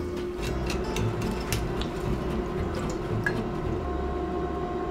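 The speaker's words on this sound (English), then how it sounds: "There's too much water in the noodles and too much surface area, so a lot of bubbles are coming up." Water with noodles in it boils in a pot, a steady dense bubbling and gurgling that continues without a break. Faint kitchen noise sits underneath and nobody speaks.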